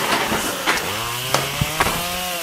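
A chainsaw idles and sputters close by, its engine pitch briefly rising, with a few sharp knocks and clicks over the buzz.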